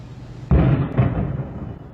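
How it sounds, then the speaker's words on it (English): A sudden loud explosion booms in a residential area near a police barricade, followed a half second later by a second burst and a lingering rumble with no voices. "you can clearly hear an explosion followed by car alarms going off"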